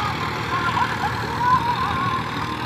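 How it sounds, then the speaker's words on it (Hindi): A Massey Ferguson 1035 DI 35 hp tractor drawing a ten-tine cultivator in second gear gives a steady, close diesel drone with a faint whine on top, continuous and unbroken. "दूसरे गियर में ट्रैक्टर चल रहा है अभी"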